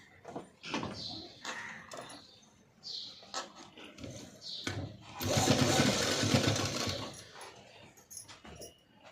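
Sewing machine stitching a padded blouse: scattered handling noises and short runs of stitching, then a louder, sustained burst of the machine running mid-clip before it stops, heard up close.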